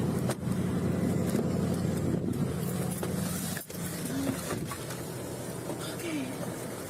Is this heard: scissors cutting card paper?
no